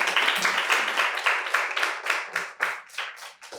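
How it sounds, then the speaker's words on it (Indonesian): Audience applause at an academic talk on astronomy and crescent moon sighting, a few clustered hands clapping in distinct rhythmic bursts that gradually thin out and fade. "Tepuk tangan dong."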